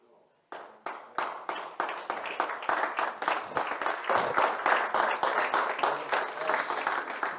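A church congregation at a sermon bursts into applause, starting abruptly after a brief silence with evenly spaced loud claps that build into a dense, steady ovation filling the room.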